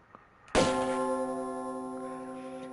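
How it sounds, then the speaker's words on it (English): A single church bell in the Tomb Raider II video game strikes once, loud and close, then rings on with a long, slowly fading hum, with no voices present. "For whom the bell tolls."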